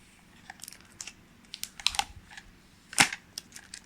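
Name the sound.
peeling blue protective film off a game controller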